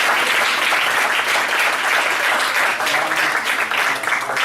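Dense, steady applause from a conference audience, loud and sustained throughout with many hands clapping together.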